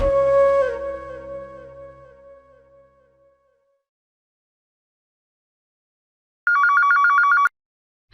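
Telephone ringing on an outgoing call to an office, a single electronic ring tone pulsing rapidly for about a second after a decaying chime fades into silence.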